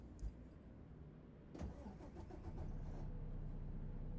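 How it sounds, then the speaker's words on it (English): A truck engine in American Truck Simulator cranks over and catches, settling into a steady, loud idle rumble that continues to the end. "Alright, so let's get the truck started up here."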